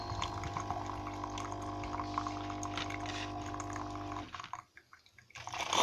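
Water pours steadily into the tank of a Tassimo coffee maker, a continuous splashing fill that stops abruptly near the end, followed by faint clatter.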